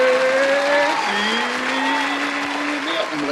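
Round of applause from a small gathering for a guest, steady clapping with a sustained tonal whine or musical tone running beneath it.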